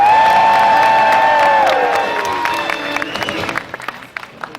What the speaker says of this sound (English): you're going to be cheering on the smaller dog